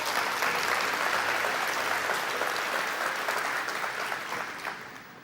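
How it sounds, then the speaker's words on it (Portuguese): Congregation applause at a Quadrangular church service, steady and moderately loud, then gradually fading over a few seconds. "Você pode aplaudir a Jesus?"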